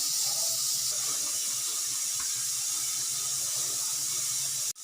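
Water trickles steadily into flour for samosa dough, a close, continuous running hiss that holds through the whole stretch before cutting off abruptly at the end, with no talking.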